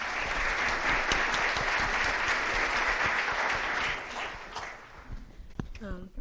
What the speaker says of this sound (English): I want to give a round of applause for Clarissa for sharing